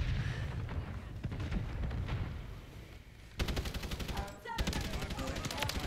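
Hip-fire gunshots in a shooter video game, sustained rapid bursts of gunfire that break off briefly and resume loud and dense, with faint game sounds underneath.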